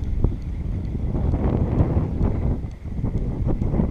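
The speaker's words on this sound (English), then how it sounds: "So it's got a little wind today" Strong wind buffets the microphone out on the water during a day of blue crabbing, a continuous low rumbling roar with gusty fluctuations and no voices.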